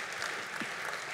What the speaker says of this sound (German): Applaus, hä?